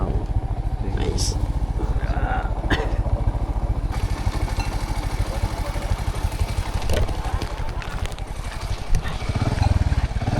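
A motorcycle engine running close by on a rural mountain-trail approach in Palawan, Philippines, with a loud, continuous, throbbing putter and people talking over it.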